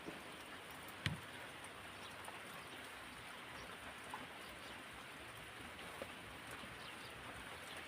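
Rain falls in cold weather, a faint, even hiss of drops that stays soft and unbroken, with one or two small taps near the start.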